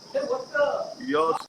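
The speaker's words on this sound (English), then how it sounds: "now I'm getting just to hear some crickets in the background" Crickets chirp steadily in the background, a thin continuous high trill running beneath voice-like sounds in the foreground.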